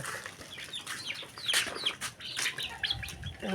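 Native deshi chickens, small chicks and grown birds, on a backyard chicken farm in Ishwardi, Pabna, cluck and chirp nearby in overlapping bursts, with a few quick wing flaps and no talking.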